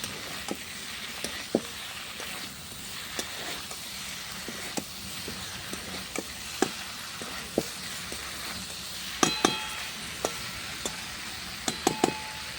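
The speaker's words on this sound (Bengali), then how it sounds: "ভেজে রাখা ভেন্ডিগুলোর সাথে ভালো করে কষিয়ে নেবো।" Shrimp, potato and okra curry sizzling and frying as it is stirred over a clay stove, a steady hiss broken by scattered sharp pops and crackles, close and alone.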